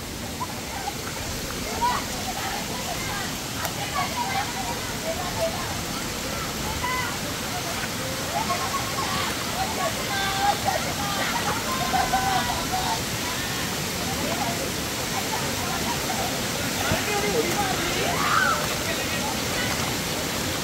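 Akoli waterfall near Boisar roars in a steady, broadband rush that holds unbroken for about twenty seconds, with faint scattered sounds above the constant water noise.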